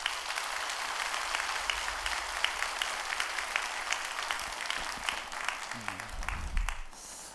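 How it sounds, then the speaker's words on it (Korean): Church congregation applauding a missionary during a Sunday service, a steady, dense wash of many hands clapping that carries on for several seconds before tapering off at the end. "여러분 크게 박수 한번 해주셔요."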